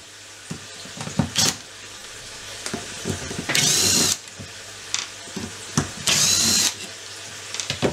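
Four T20 Torx screws are driven out of the 14CUX ECU of a TVR Chimera 400HC with a power screwdriver, heard as two sustained whirring bursts amid clicks, handling noises and scattered short taps, close and without talk.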